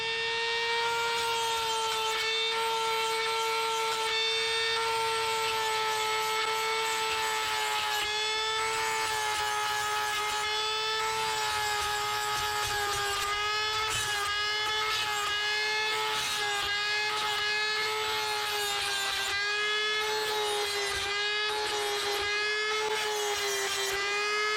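A Dremel with a diamond chainsaw-sharpening stone grinds the blade edges of a Worx cordless hedge trimmer, a steady high-pitched whine of the rotary tool with scraping grit, close and continuous throughout.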